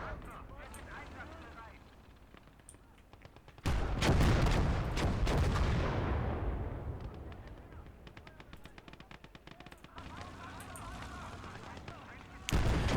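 A Panzer IV fires in a World War II strategy game and detonates a supply crate, a loud, booming blast with a long rumbling decay. Scattered gunfire crackles around it, and another heavy boom lands at the end.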